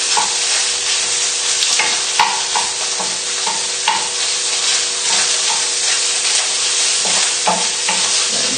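Sausages sizzle steadily in a teaspoon of oil in a hot pan, a loud, continuous close crackle with occasional stirring scrapes as they are moved around.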